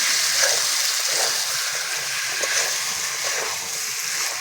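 Goat mutton frying with ground spices, a steady, loud hissing sizzle that runs throughout without a break.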